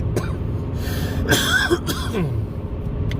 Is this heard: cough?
yes